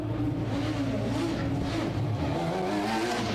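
Race cars at the Donington Park GP circuit in a Radical championship race, engines droning steadily at mid distance with a continuous roar and no talking.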